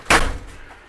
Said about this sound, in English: Coming inside your unit, close the door.